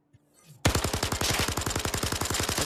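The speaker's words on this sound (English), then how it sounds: "It's just like an ACOG, it's just a turret machine gun." Rapid automatic bursts from a turret machine gun in a VR shooter game, a steady loud stream of evenly spaced shots starting abruptly after a brief quiet moment and continuing without pause.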